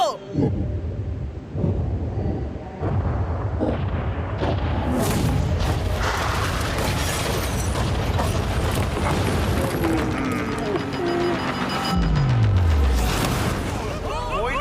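Yacht blown up on cue by a stunt explosive, a dense rumbling blast that rolls on through the clip with booming low thunder-like roar, then a deep descending tone near the end; voices are heard amid the noise.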